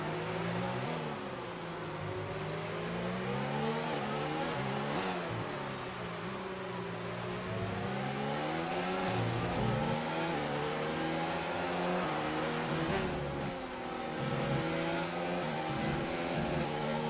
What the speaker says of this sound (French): On va écouter un petit peu son régime moteur.